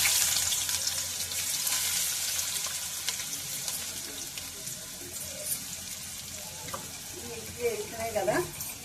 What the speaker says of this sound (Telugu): ఉల్లిపాయ ముక్కలు వేస్తున్నాను.